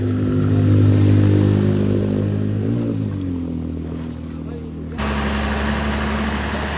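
A car engine droning and revving on a flooded road in Panvel, its pitch rising and falling, then a sudden shift to a rougher, noisier running sound near the end.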